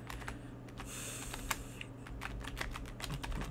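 Fingers type on a computer keyboard, a quick run of close, crisp key clicks with irregular rhythm and no talking.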